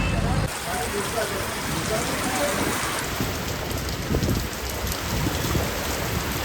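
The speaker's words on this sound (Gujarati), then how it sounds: "વરસાદ આવવા લાગ્યો છે" Rain falls steadily at Bardoli, a dense close hiss of drops striking surfaces that stays even throughout with no talk over it.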